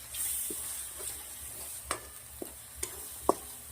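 Soft, steady sizzling of ginger garlic paste frying in hot ghee, with a few sharp scrapes and taps of a spoon stirring the pan.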